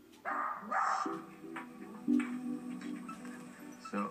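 A dog gives several whiny, protesting barks and yips close by, in a handful of uneven bursts over quiet background.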